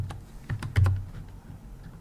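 A handful of quick keystrokes on a computer keyboard as a password is entered at a Linux terminal. The taps are close, crisp and uneven, with one firmer press near the middle and no talk over them.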